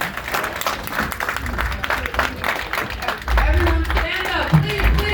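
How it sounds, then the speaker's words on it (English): A standing audience at a gathering of young community members gives a round of applause, dense clapping rising louder midway, mixed with crowd murmur and some talking. "Everyone stand up, please, give him a round of applause."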